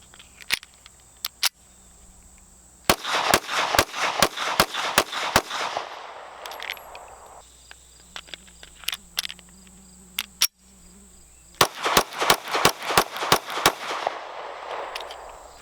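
Ruger LC9 9mm compact pistol firing outdoors, two rapid strings of sharp, loud shots with a few spaced single shots between them, set against a steady chorus of insects, with no talking.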